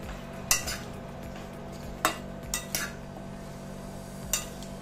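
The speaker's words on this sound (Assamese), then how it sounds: "চব্জিৰ লগত গোটেইখিনি ভালদৰে লৰাই দিছোঁ" Utensil scraping and clinking against a cooking pan while vegetables with bottle gourd shoots are stirred, a few distinct knocks over a steady low background hum, no talking.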